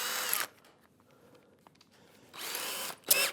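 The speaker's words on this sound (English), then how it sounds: "So what I do now is I drill the hole" A power drill boring a hole through plywood on a workbench, two loud whirring bursts with a quiet gap between them, then a short third burst.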